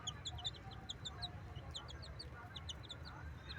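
Chicks and chickens cheep and cluck together in the morning, many rapid, high chirps repeating across the clip at low volume over a faint outdoor hum.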